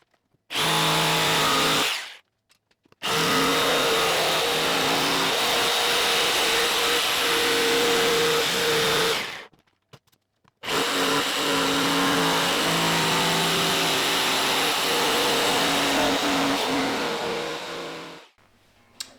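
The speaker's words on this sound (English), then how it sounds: "Then we will go around it with the jigsaw." A jigsaw cuts a seat shape out of MDF along a template in three long, loud, buzzing passes, separated by brief silent pauses, heard up close.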